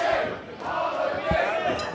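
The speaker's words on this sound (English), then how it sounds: "Crowd is mixed here, chanting for Cowpoke" A mixed wrestling crowd chants at a live Extreme World Wrestling show, a loud, dense roar of many voices rising and falling in waves, close and continuous throughout.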